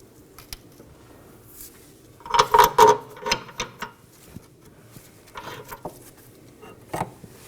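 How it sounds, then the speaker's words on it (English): A jack stand is raised under a 2015–2023 Nissan Maxima during rear shock absorber replacement, giving a cluster of ratcheting mechanical clicks mid-clip and a few scattered metallic knocks around it, close by and with no voices. "Now we're going to raise our stand so we can install our lower mounting bolt"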